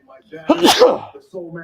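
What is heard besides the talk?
sneeze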